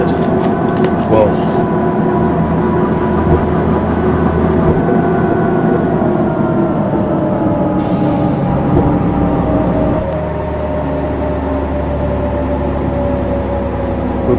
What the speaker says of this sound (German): Der Zug, der abfährt.